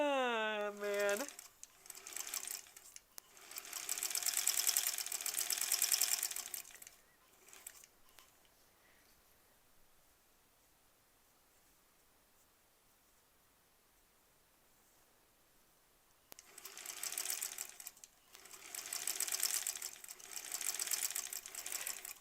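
Sewing machine quilting a batik fabric block, whirring in two sustained runs at the start and end with a quiet pause between, near and moderately loud, with a voice briefly heard.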